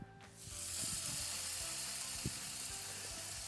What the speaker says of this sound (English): I like the sizzle.